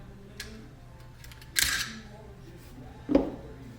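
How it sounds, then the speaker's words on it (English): A rifle's charging handle is pulled back and the bolt carrier group is slid out during field stripping, heard as two sharp metallic clicks and scrapes, one around the middle and one near the end, over quiet background. "Grab the charging handle, pull it back a ways, as far as back as it'll go."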